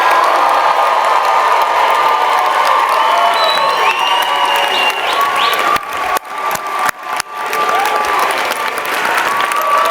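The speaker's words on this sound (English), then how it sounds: "Please join me in applauding the AUP graduates of the class of 2025." A commencement crowd claps and cheers loudly for the graduating class of 2025, with whoops and shouts rising over sustained applause and a few sharp bursts toward the end.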